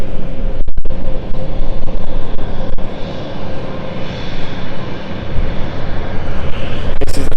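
A British Airways CityFlyer jet on its takeoff roll at London City Airport, a loud, steady engine roar building and sustained throughout, with a few brief clicks near the start.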